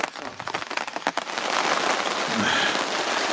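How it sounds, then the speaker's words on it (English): Steady rain pours down outside during a spring hunting trip, a dense close hiss with heavier drop patter in the first second before settling into an even, loud wash. "of course it hasn't stopped raining. And yeah, it's even worse."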